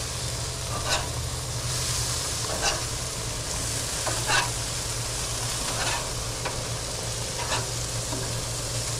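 Six pounds of hamburger patties seasoned with steak seasoning sizzle steadily on a grill, a continuous dense crackle with occasional louder pops and spits, no voices.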